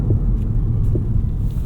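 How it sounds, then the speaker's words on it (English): A 2025 Rivian R1S SUV rolls along a bumpy dirt road, giving a low, steady cabin rumble of tires and road noise heard from inside. It lasts only a moment and no one talks. "Let's drive down some dirt roads here, some rougher, bumpier pavement."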